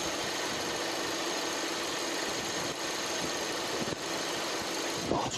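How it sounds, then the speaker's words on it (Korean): A car engine idling smoothly and quietly, a steady low hum with faint mechanical ticking, close by, with a brief rustle near the end. "바로 엔진 소리 한번 들려드릴게요"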